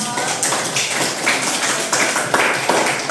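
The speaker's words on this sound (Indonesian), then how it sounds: "Oke, tepuk tangan dulu dong." A classroom of children clapping their hands together, a dense, loud crackle of overlapping claps with a few stronger bursts, heard up close.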